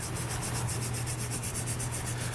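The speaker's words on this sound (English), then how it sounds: "take a nylon toothbrush and just brush all that dirt and debris out" A nylon toothbrush scrubs dirt and debris out of the weld nuts on the frame of a 2018 GMC Sierra truck, a steady close rasping brush stroke repeated in an even rhythm with no talking.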